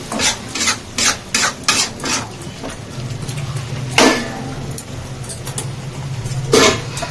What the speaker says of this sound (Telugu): చికెన్ వేసేసుకొని ఇంకా ఇప్పుడు ఫ్లేమ్ వచ్చేసి కొంచెం హై ఫ్లేమ్లోనే ఉంచుదాం ఒక 5 నిమిషాలు